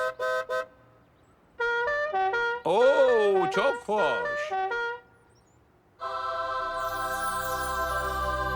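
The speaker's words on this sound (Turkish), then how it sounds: "Pekala otobüsler, hadi şu kornaları duyalım" Several bus horns honk one after another in a horn-honking contest, short toots then longer blasts, loud and near, with a brief voice among them.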